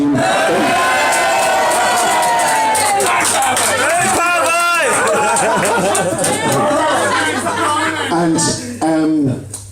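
A reunion crowd for the class of 2006 cheers and chatters loudly for Paddy Hayes, a dense, sustained roar of voices and shouts with bursts of laughter throughout.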